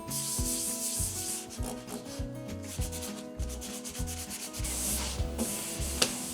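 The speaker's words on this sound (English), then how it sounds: "I do not want to sand off that much paint." Paint is sanded off oak kitchen cabinets by hand, a close, continuous rhythmic rasp of abrasive strokes back and forth across the wood, with no speech.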